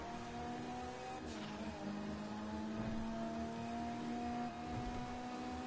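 A car engine in GTA V holds a steady droning rev that shifts pitch once or twice, heard continuously at moderate volume under a faint background wash.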